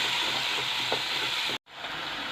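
Chopped tomatoes being stirred into ladies finger (okra) frying in a pan for subji, a steady close sizzle with soft scraping stirs, briefly cut by a moment of silence before the frying resumes.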